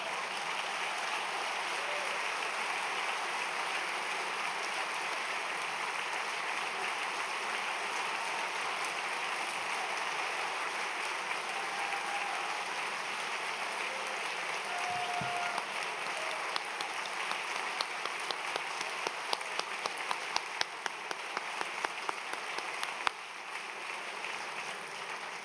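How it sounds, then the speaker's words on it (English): A festival audience applauds author David Baldacci after his opening address at the 2022 Savannah Book Festival: a dense, sustained crowd of clapping hands lasting over twenty seconds, with a few sharper individual claps near the end. "Let's give another round of applause for David Baldacci."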